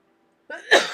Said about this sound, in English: So I'll quit coughing on you